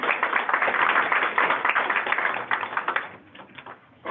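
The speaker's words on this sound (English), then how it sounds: "give them another round of applause" Round of applause from an audience at a talk for prevention professionals, a dense, steady burst of many hands clapping that thins out and tapers off toward the end.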